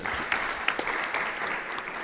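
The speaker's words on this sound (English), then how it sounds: "Another round of applause for him." A crowd applauds steadily at a university town hall meeting, a dense patter of many hands clapping at moderate loudness.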